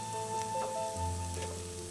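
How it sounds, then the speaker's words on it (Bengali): Onion, ginger and garlic sizzle steadily in hot oil in a pan, with spices going in, a continuous close frying hiss over low kitchen hum. "আমার এখানে পেঁয়াজ আদা রসুনটা খুব ভালোভাবে ভাজা হয়ে গেছে।"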